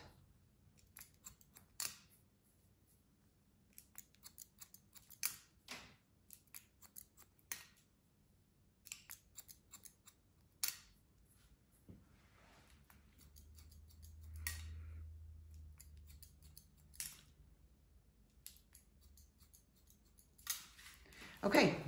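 Scissors snip repeatedly at a boy's hair in short close crisp bursts, with brief pauses between cuts, a faint low hum in the background and little else.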